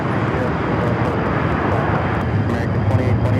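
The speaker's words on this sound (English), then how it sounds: "Will it be a south side takeoff for the Lufthansa A380?" A Lufthansa Airbus A380 taking off at night at Los Angeles International Airport, a loud, constant, close jet roar that fills the whole moment, with faint voices underneath.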